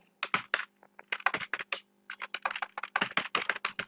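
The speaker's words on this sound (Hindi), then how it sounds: "अब मैं यहां पर आपको टाइप करके दिखा रहा हूं" Rapid typing on a computer keyboard, a close run of crisp clicking keystrokes in quick bursts with brief pauses, loud and alone without any talk.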